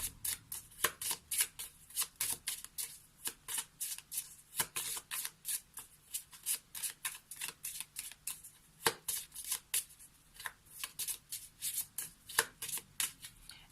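Lenormand oracle cards shuffled by hand in rapid repeated riffles and flicks, close and crisp, continuing steadily for several seconds in an otherwise quiet room with no talking.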